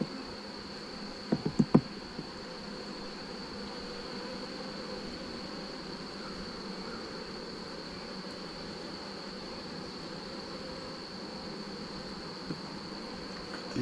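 Honeybees hum steadily and close around an open hive while the colony is inspected and comb is trimmed, with a few brief knocks early on and no talking.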